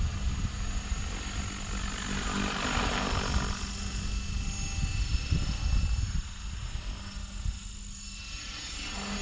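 A Blade Fusion 550 RC helicopter flies outdoors with a steady rotor whine and drone held for several seconds, close and fairly constant, with no talk.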